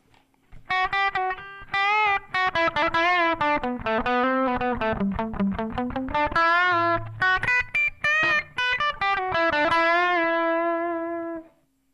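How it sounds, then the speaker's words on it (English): Guitar notes and chords ring out through a Zoom G1 effects pedal's room reverb, each phrase trailing off into a short ambient tail, played steadily with no voices. "Next we have a room reverb."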